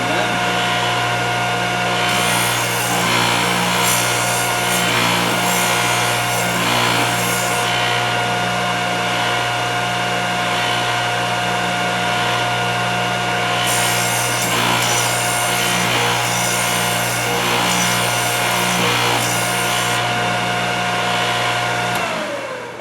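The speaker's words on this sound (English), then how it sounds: "I like to turn my bit into it and grind inwards" A Thorvie AV-40 sharpening machine grinds the flute of a woodworking router bit. A steady motor hum runs throughout, and harsher rasping grinding comes in repeated passes. The machine winds down at the end.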